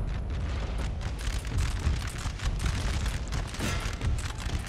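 Enemy artillery guns fire on a Napoleon: Total War battlefield, a continuous rumble of booming cannon blasts and distant crackling musketry rolling together at a loud, dense level.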